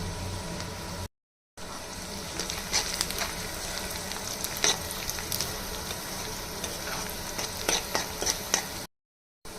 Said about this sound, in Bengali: পেঁয়াজটা আমি হালকা করে ভেজে নিচ্ছি।